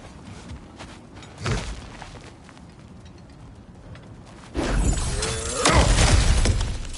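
Ground smashed open in God of War Ragnarok: a sharp crash near 1.5 seconds, then a loud, dense crumbling rumble from about 4.6 seconds that swells further near 5.7 seconds and carries on to the end.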